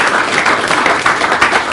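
An audience at a formal dinner applauds, producing a loud, dense, continuous wash of clapping from many hands that holds steady throughout.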